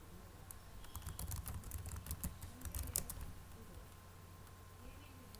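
Quick, light keystrokes on a computer keyboard as an ID and password are typed, a soft clustered burst of clicks that trails off into quiet room hum.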